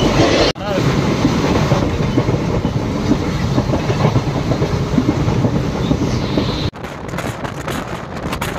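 A Palakkad–Chennai Superfast Express train runs on rails, giving a loud, continuous rumble with rhythmic clickety-clack of wheels and wind buffeting close to the microphone, broken by brief drops in level.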